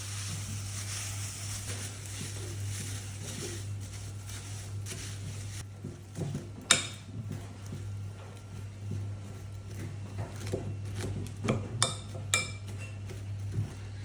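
Chocolate Rice Krispie cake mixture being mixed in a bowl, with soft scraping and scattered clinks of a spoon against the bowl, quiet and close, over a steady low hum.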